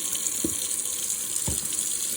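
A tap runs steadily while an oil-painting brush is rinsed in the water, a close, continuous hiss marked by two short low splashes.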